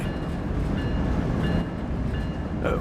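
A freight train rumbles steadily up Cajon Pass in Train Sim World 3, a loud continuous drone of engine and wagons without talk.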